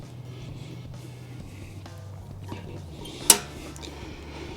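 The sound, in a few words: opening the vent on a Weber Summit Kamado grill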